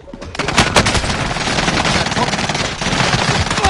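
Sustained automatic gunfire in the video game Call of Duty: Warzone, loud and close, a dense rapid stream of shots filling the whole stretch with little pause.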